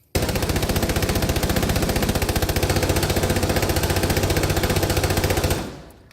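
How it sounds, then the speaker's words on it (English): Light machine gun fired from the hip in Rainbow Six Siege, one long unbroken burst of rapid, evenly spaced shots for over five seconds, loud and close, then stopping abruptly. "we're going to hipfire this thing"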